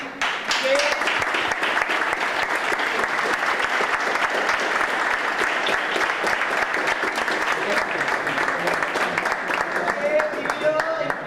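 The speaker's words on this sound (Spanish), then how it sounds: "pediría un aplauso para Ramón Martí" Sustained applause from an audience honouring a retiring member at an SEO BirdLife 70th anniversary event in a visitor centre, dense steady clapping throughout with some voices mixed in.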